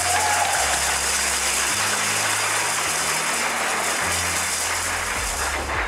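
Applause from a virtual cheering section at an online workplace awards ceremony, a continuous wash of clapping held at an even level throughout with a low mechanical hum underneath.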